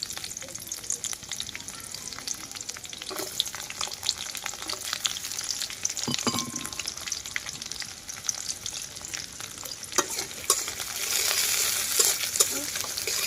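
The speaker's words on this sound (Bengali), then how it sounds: "পেঁয়াজটাকে এখন হচ্ছে কিছুক্ষণ ভেজে নেব।" Sliced onions sizzle and fry in hot oil with bay leaf for a village-style chicken curry, a steady crackling hiss with occasional stirring scrapes, close and continuous.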